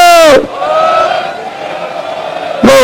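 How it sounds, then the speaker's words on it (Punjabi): Sikh crowd at a farmers' protest gathering at Kundli Border gives a loud jaikara battle cry, a short burst of massed shouting at the start and another at the end, with a single voice carrying a sustained call in between. "ਉਹਨਾਂ ਦੀ ਆਮਦ ਤੇ ਜਕਾਰਾ ਛੱਡਾਂਗਾ। ਬੋਲੇ ਸੋ ਨਿਹਾਲ।"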